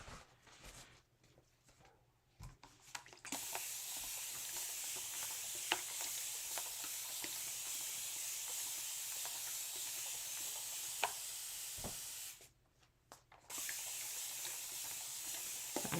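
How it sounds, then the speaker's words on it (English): A spray bottle hisses cleaner in a steady, sustained burst close by, running for long stretches with brief pauses between sprays. "I'm just spraying this down."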